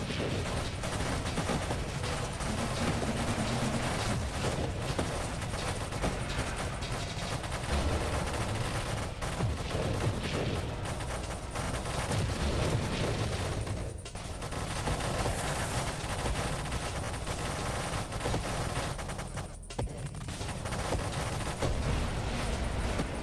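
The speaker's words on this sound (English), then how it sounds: "I love the sounds of explosions in this game." Dense, continuous explosions and blasts from the space shooter video game Nova Drift form a loud, unbroken barrage with rapid overlapping bursts and no voices.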